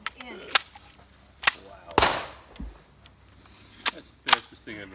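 A BWE Firearms Micro Uzi conversion fires, with sharp, loud, close reports that come singly and in short clusters, separated by brief quiet gaps.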